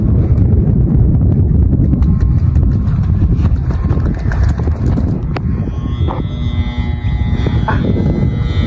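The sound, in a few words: strong wind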